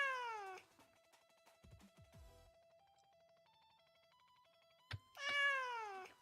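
A cat meow sound effect fires as a stream alert, two clear harmonic meows at the start and end with a quiet sustained tone and faint thumps between them.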